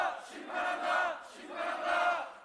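Protesters at a party rally shout a slogan together, two swelling chanted phrases from many voices, loud and close, rising and falling in a steady cadence.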